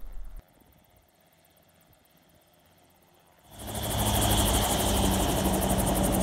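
A Cicare helicopter's engine runs on the ground, starting from near quiet and swelling into a loud, steady whine with rapid rotor beating that holds to the end.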